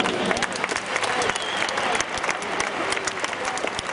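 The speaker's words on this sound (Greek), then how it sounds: "Το δικό σας χειροκρότημα." An audience claps steadily, a dense, lively burst of applause from a crowd, loud and sustained throughout.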